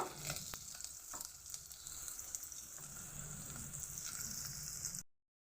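Chopped onion fries in hot oil for a chicken sandwich filling, a steady close sizzle with small crackles for about five seconds before it cuts off abruptly.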